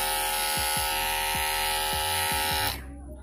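A Kemei electric trimmer runs after a switch repair, a loud steady close buzz with a strong hum and several soft low knocks, then it cuts off near the end.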